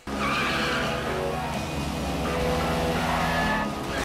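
Tires skid and squeal through a movie car chase involving a two-cylinder car, a loud, continuous screech over engine roar that holds for about four seconds with no talk.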